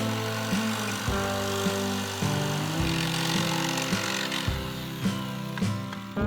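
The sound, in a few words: jigsaw cutting wooden squares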